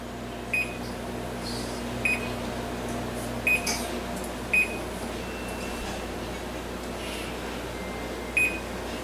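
An oven's control panel beeps as it is set to broil, six short, sharp electronic tones at irregular intervals, close and clear over a low steady hum of the kitchen.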